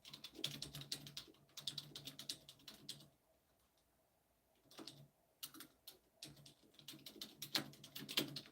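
Someone types a title on a computer keyboard in quick clattering bursts of close key clicks, pausing briefly in the middle before resuming.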